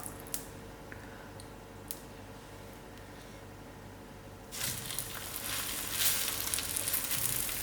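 A dhal roti fries in oil: a soft low sizzle with a few small ticks, swelling into a louder, hissing fry halfway through as the flatbread cooks close up.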